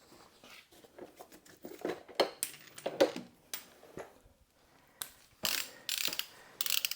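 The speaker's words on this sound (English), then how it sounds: "I'm going to torque the wheels" A ratcheting torque wrench tightens the wheel lug nuts on a 2009-2020 Honda Fit during a brake job, giving close, irregular bursts of clicks and short ratchet rattles with quiet gaps between them and no talking.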